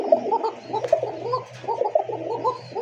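Running master pair racing pigeons coo in repeated throaty, bubbling phrases, close by, with soft clicks in between.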